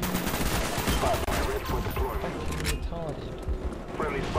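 Rapid-fire gunfire in the PC game Call of Duty Black Ops comes in quick bursts of shots, mixed with other game sounds.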